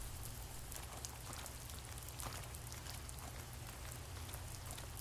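Steady rain falls throughout a scene in the video game The First Tree, a dense, even hiss of drops on surfaces with no voices over it.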